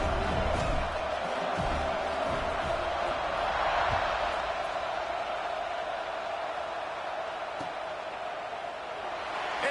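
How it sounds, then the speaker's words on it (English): Crowd at a North Carolina college football game in a stadium, a steady broad roar of many voices rising before a kickoff, continuous and fairly loud throughout with no single voice standing out. "this crowd now ready to get behind them"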